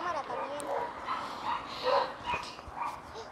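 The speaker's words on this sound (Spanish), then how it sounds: "Ay, perro." A neighbor's dog yips and barks in a short series of high, excited calls at moderate distance, with people talking over it.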